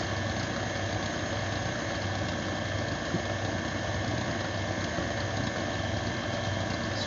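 An electric mixer whips potatoes with a steady motor drone and a faint rattling churn, holding at a constant level throughout with no voices.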